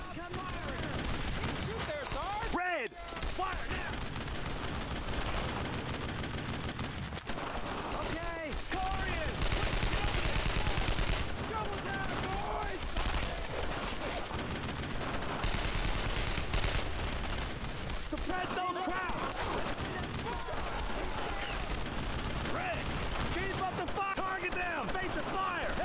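Rapid, overlapping rifle and machine-gun fire from a WWII squad firefight in Brothers in Arms: Road to Hill 30 crackles continuously at high volume, with occasional heavier booms, while a player talks over the shooting.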